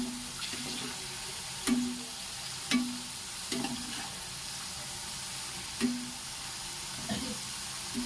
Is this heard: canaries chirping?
no